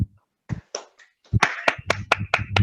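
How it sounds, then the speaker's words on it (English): Scattered hand claps at a Toastmasters meeting in Bangalore, starting as a few separate snaps and building into sharp, fairly close, rhythmic clapping from a small group during a standing ovation. "requesting all the Toastmasters to stand up and applaud for"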